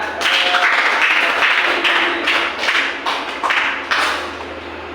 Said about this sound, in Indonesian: tepuk tangan kepada Pina ya